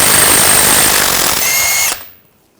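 A power tool fitted with a 36mm socket spins off the front axle nut on a 2014-2018 GMC Sierra 1500 pickup, a loud continuous whirring whine that runs for about two seconds and then cuts off abruptly, with no talking.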